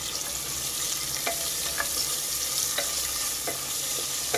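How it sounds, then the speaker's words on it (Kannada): Chopped onions fry steadily in a pan for mushroom pulav, a continuous close sizzle broken by occasional clicks and stirring scrapes, with no talking. "ಬ್ರೌನ್ ಕಲರ್ ಬರಬೇಕು, ಸ್ವಲ್ಪ ಗೋಲ್ಡನ್ ಬ್ರೌನ್ ಕಲರ್ ಬರೋವರೆಗೂ ಈರುಳ್ಳಿನ ಚೆನ್ನಾಗಿ ನಾವು ಫ್ರೈ ಮಾಡ್ಕೋಬೇಕು"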